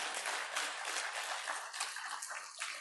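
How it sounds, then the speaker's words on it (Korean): Faint, dense clapping from a church congregation giving thanks during a Sunday service, a steady distant patter of applause without voices. "한 번 더 하나님께 큰 박수로 하나님께 감사함을 표현해 봅시다"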